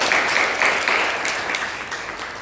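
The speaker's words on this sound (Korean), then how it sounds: "네, 박수 하겠습니다." A church congregation at a Sunday teachers' service applauds visiting guests, loud close clapping with a brisk rhythmic pulse at first that gradually softens and fades.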